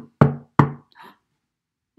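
Two sharp, loud knocks on a door land about a third of a second apart, followed by a fainter scuffing sound and then silence.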